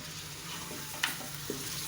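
Mutton being stirred and fried with nihari masala in a pan: a soft steady sizzle with a couple of brief scraping clinks from the stirring utensil, close and fairly quiet.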